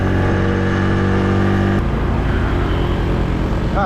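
Honda Super Cub 110 motorcycle engine labouring up a slope, a steady loud drone whose pitch drops partway through as the gear changes, continuing close and unbroken.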